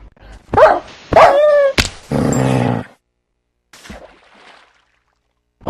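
A cartoonish dog in a video game gives several loud, close barks and grunts in quick succession, followed by softer scattered game sounds and long pauses.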